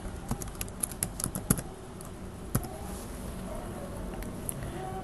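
Rapid, irregular keystrokes on a computer keyboard as a component name is typed into chemical process software, close and crisp, with scattered louder clicks and a quiet room hum.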